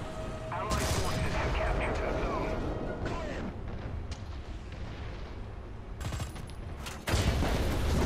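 Tank cannon fire and explosions in the online combat game War Thunder, heavy booming blasts with a sharp burst near the start and another near the end over continuous rumbling battle noise.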